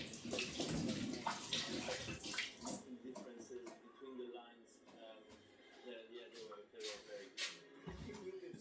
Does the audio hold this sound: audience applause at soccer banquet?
no